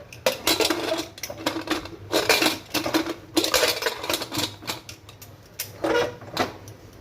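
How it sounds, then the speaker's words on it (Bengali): A metal lid clanks onto a cooking pot of oil-free mutton curry, with a run of clattering metallic knocks and scrapes from pots and utensils spread across the stretch, fairly close and loud. "ঢাকনা দিয়ে দিচ্ছি।"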